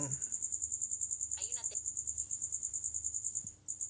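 A single cricket chirps indoors in a steady, rapid pulsing trill that runs throughout, fairly close and clear, with a brief burst of background noise partway through.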